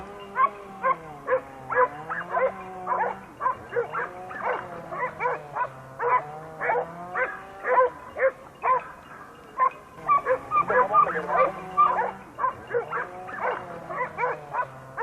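Several hunting dogs on a wild boar hunt in Anatolia bark and bay continuously in rapid overlapping bursts, loud and fairly close, with no pauses for the whole stretch.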